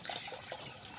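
Water trickling and pouring faintly from a tap into a container, being readied to mix with Vitamin Pro for pet animals, a soft continuous wash with no talk.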